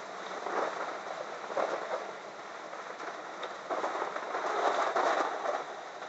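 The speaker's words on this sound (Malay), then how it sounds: "Hujan lebat sangat." Very heavy rain pours down in a steady, broadband roar with gentle surges, heard at a distance from indoors without anyone talking.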